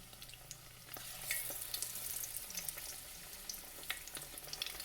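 Beer-battered shrimp drop into hot grease and fry with a soft, continuous crackling sizzle, quiet and close, with scattered small pops throughout.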